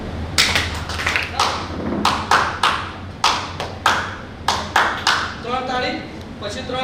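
Hands clap sharply at close range in a sequence of crisp, separate claps spaced irregularly, with a voice talking under and between them.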